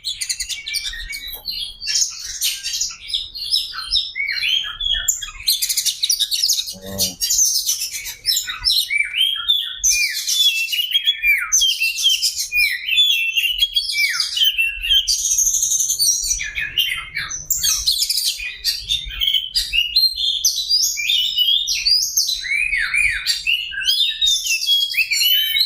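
A caged oriental magpie-robin (kacer) sings continuously, a loud, close, varied stream of chirps, whistles and trills with no pauses, one brief low knock partway through.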